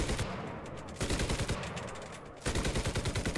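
Machine gun fire in the World War II shooter Enlisted during the Battle for Berlin, playing the Russian side: loud, rapid bursts of automatic shots separated by brief pauses, with no talk.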